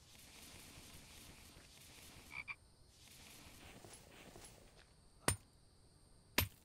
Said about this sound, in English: we got quite a few frogs falling from the sky